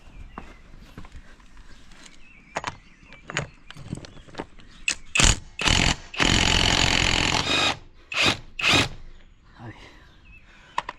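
A front wheel nut on a Nissan Navara D40 being loosened: a series of sharp knocks and clanks from a wrench, then a sustained grinding burst of about two seconds, loud and close, with someone speaking intermittently.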